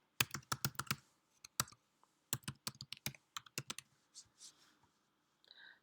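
Computer keyboard keys clatter in quick bursts of close, crisp clicks while an email address is typed, pausing briefly between runs before a few softer final taps.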